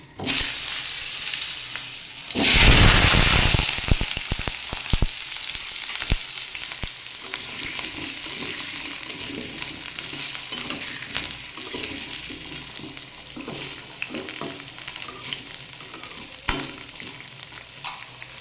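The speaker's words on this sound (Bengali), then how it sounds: "এবারে এই যে কেটে রাখা লাউ, এগুলোকে আমি ভেজে নেব।" Chopped bottle gourd dropped into a hot pan already tempered with cumin and bay leaf, a loud burst of crackling as it goes in, then steady frying sizzle with clicks of stirring, close and with no speech.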